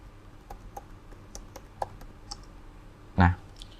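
Password being typed on a computer keyboard: a sparse series of separate key clicks at an irregular pace, close and fairly quiet, ending in one louder key press like the Enter key.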